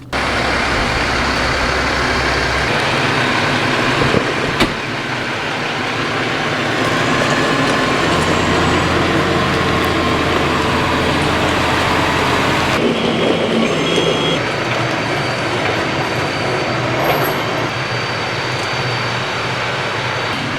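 Heavy trucks load a farm tractor and planter in the rain, with a steady loud engine rumble throughout and a beeping alarm partway through.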